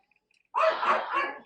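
A single dog bark burst, fairly close and loud, following a brief moment of near silence.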